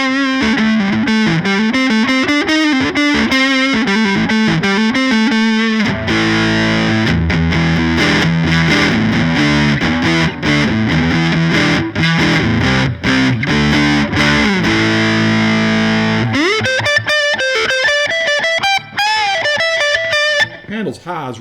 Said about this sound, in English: I want this to be about the sound of the